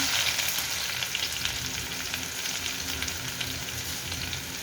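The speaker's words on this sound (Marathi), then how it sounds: "तेल गरम झालं की लसूण" Garlic sizzles in hot oil in a tempering with cumin for a home-cooked cauliflower and pea mixed vegetable dish, a steady, close crackling hiss that holds evenly throughout with no voices.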